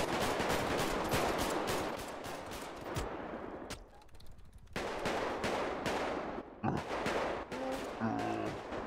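Rapid automatic gunfire crackles in dense bursts during a zombie-outbreak scene in GTA 5 roleplay, then drops away briefly and resumes more sparsely, with a voice heard faintly near the end.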